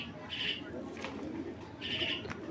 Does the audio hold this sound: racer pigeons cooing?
yes